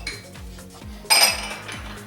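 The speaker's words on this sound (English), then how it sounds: "Now it's time to mix it all up." A utensil knocks and scrapes in a bowl while spinach souffle ingredients with Italian breadcrumbs are mixed, giving rhythmic soft thuds and then a bright clattering clink, close and moderately loud.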